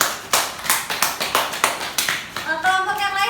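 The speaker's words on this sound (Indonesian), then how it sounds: "Tepuk tangan." A classroom group claps together in a rhythmic unison beat, about a dozen sharp, fairly loud hand claps, before a voice begins speaking near the end.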